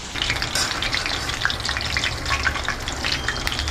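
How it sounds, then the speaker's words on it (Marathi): Bitter gourd slices frying in a pan give a steady, close crackling sizzle with scattered pops, continuing without a break and with no voices. "आता थोड्या वेळा मागीर हांव कारत फोडी तळचे"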